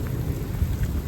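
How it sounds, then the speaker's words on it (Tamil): Heavy rain pouring during outdoor cooking of biryani over a wood fire, a steady close hiss of downpour with low rumbling, no talk. "மழை பெய்யுது"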